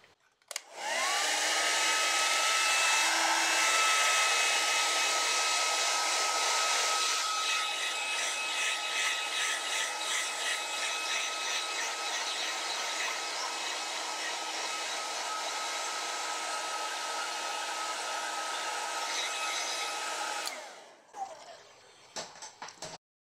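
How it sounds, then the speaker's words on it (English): A blow dryer runs loud and steady for about twenty seconds, a continuous whooshing roar with a faint whine, then cuts off followed by brief handling clatter. "Hit it with the blow dryer."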